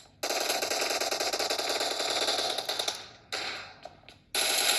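Rapid automatic gunfire from the mobile game PUBG Mobile, played on a realme C25s phone, comes in two long bursts and a few short ones, loud and sharp with brief gaps between.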